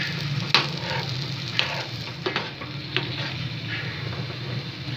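Tomatoes fry with a steady sizzle in a pan for tomato bhujia while a spoon stirs them, scraping sharply at irregular moments over the continuous crackle, close and moderately loud.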